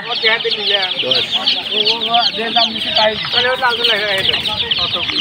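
Bombay chickens at a busy poultry market cluck in a dense, continuous chorus, close and loud, with people talking among them.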